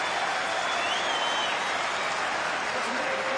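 Crowd applause at a 2010 Australian football match between North Melbourne and Sydney as a player comes off to the bench, a steady broadband wash of clapping and crowd noise filling the stadium throughout.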